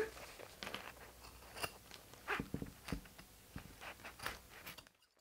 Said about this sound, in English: you can trim the excess zipper